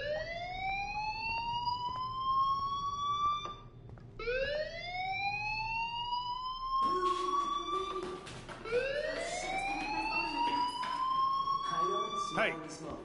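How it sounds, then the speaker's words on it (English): A wailing fire alarm siren in the video game Life Is Strange rises in long repeated sweeps, overlapping itself as it loops, loud and steady, with a voice speaking faintly underneath. "do you hear that fire alarm? That means you should be outside."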